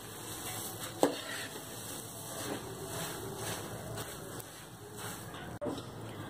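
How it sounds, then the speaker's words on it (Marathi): Puffed rice (kurmure) being stirred and tossed in a pan for bhadang, a steady dry rustling and light sizzle with a couple of sharp clinks of the spoon against the pan. "आता मी याच्यामध्ये भडंगचे कुरमुरे जे आहेत ते घालणार आहे आणि व्यवस्थित आपल्याला हे मिक्स करून घ्यायचं आहे"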